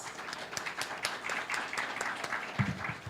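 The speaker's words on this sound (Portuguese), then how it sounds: "Salva de palmas." Symposium audience welcomes a speaker with a quiet round of applause, individual hand claps distinct and irregular at a moderate distance.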